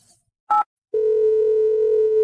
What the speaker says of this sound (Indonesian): Pelanggan yang Anda hubungi sedang dalam panggilan.